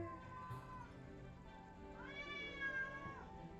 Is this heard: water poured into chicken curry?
no